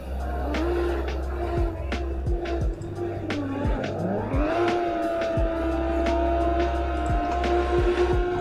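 A drift car in Assetto Corsa revving hard and upshifting, its engine note climbing and settling while tires squeal through a slide, with rapid repeated clicks over a steady loud drone.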